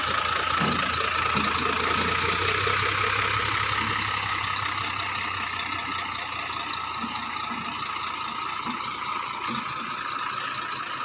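A heavy trailer truck in Saudi Arabia maneuvers with its engine running, a steady close rumbling drone that holds evenly throughout, with a faint hiss above it and no voices.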